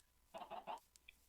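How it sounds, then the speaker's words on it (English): Chickens in the video game Minecraft give three quick, faint clucks in a row, followed by a couple of tiny softer chirps, all very quiet. "come along with me, little chickens"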